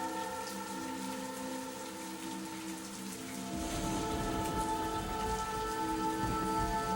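Steady rain falls in the video game The Path, a constant patter of drops on surfaces that grows denser and louder partway through, heard alone with no voices.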